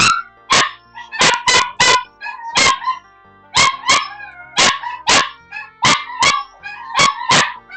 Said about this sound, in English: I think the dogs won't stop.